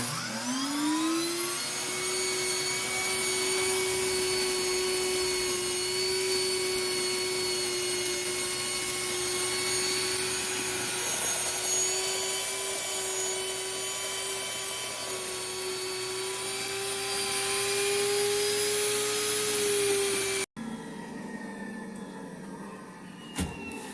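A grain mill grinds hard white and hard red wheat. The motor gives a loud, steady whine and drone for about twenty seconds, then cuts off into quieter background noise.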